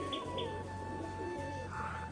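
Pigeons, among them a white female that has just taken off, coo and call in a steady outdoor scene, with soft chirps over a low continuous background and no talk.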